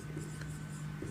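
Someone writes on a board during a physics lesson, producing a soft, continuous scratching and rubbing that stays faint and close against a steady low hum.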